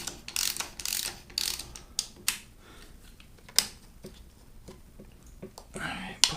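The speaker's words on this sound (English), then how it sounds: "I'm gonna start it with the regular socket here. Just draw it in just until it touches" A ratchet socket wrench tightening a fastener on a Harley Davidson, heard up close as quick bursts of clicking pawl ratchets in uneven strokes with short pauses between them, while someone talks quietly nearby.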